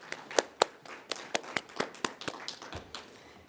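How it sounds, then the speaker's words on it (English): Scattered clapping from a conference audience, a sparse run of individual hand claps close by that thins out and fades after a few seconds. "Let's give him another round of applause"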